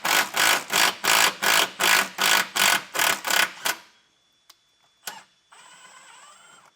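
Power driver running big self-tapping screws with a 14mm socket while installing a Roadmaster Comfort Ride leaf spring suspension kit, about ten loud rhythmic pulses of whirring, then a few clicks and a faint tonal hum.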